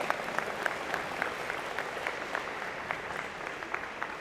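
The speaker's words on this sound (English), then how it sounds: "give him a big round of applause" Applause rises from a crowd for a student at an engineering and computer science college convocation, steady, dense clapping that is moderately distant and continuous for the whole stretch.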